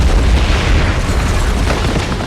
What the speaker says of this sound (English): The explosion stunned Bond.